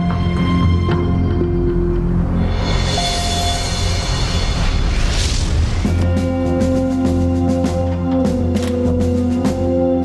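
Atomic bomb explosion blast wave, a sustained loud roaring rumble that surges into a broad crashing burst midway, then settles into a heavy continuous drone, with no speech.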